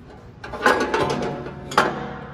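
Urschel Model SL-A meat dicer, a three-dimensional strip cutter and slicer with circular knives and a cross-cut spindle, running with a steady mechanical whirring and a few sharp clacks, close and moderately loud.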